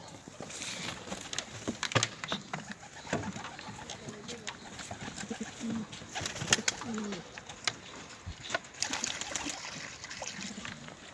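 Pigeon cooing during a session of catching stray pigeons on a rooftop, soft repeated coos mixed with wingflaps and scattered knocks, with people talking nearby throughout.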